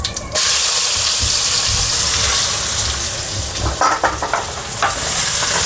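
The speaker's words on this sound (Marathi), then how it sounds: "कांदा चांगला लालसर होईपर्यंत भाजून घ्यायचा." A large chopped onion frying in a pan with asafoetida, giving a loud, steady sizzle close up that carries on throughout, with brief stirring noises near the end.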